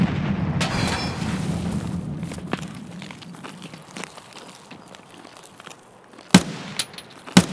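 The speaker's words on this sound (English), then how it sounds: "Nade! Oh, grenade!" A grenade blast in the game Escape From Tarkov: quiet footsteps and rustling lead into two sharp, loud explosions close together near the end, with no talking.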